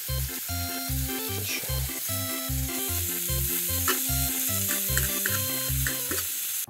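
Garlic butter sizzling on a whole chicken turning on a Mount Sumi rotisserie over a campfire, a steady frying crackle running under louder background music with a bouncy bass line.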